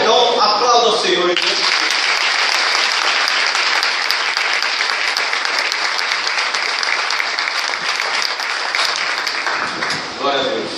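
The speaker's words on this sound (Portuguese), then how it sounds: "Então, aplauda o Senhor." Loud, sustained applause from a church congregation, filling the space for several seconds after a brief voice at the start and tapering near the end.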